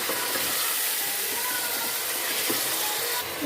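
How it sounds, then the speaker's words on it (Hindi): Half a kilo of minced beef keema fries in a pan, giving a loud, steady broadband sizzle and hiss with faint scraping knocks underneath. "यहाँ पर हमने आधा किलो कीमा लेंगे, वो इसमें हम ऐड करेंगे और इसको हम अच्छे से मिक्स कर लेते हैं।"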